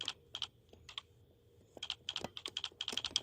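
Computer keyboard typing indoors, quick bursts of clicking keystrokes in an irregular rhythm with short pauses, close and moderately loud with no talking.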